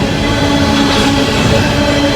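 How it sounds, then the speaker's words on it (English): An empty coal train rumbles past on the railroad at Thurmond, a ghost town, with a loud, steady, close roar of wagons and wheels filling the whole stretch. "Exactly what you'd expect to see in Thurmond, a coal train."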